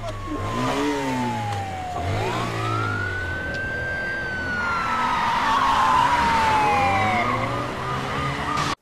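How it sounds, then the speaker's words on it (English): A motorcycle engine revs and roars up and down in pitch, loud and close, with a siren-like wail sweeping over it. "Actually, the sound kind of matches the motorcycle."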